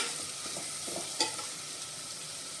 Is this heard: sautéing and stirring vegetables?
yes